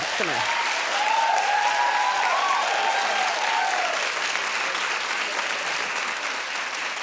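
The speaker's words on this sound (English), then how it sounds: "But you ended up clapping after all." A television talk show studio audience bursts into sustained clapping, a dense wash of applause with a voice briefly heard over it near the start, slowly tapering off.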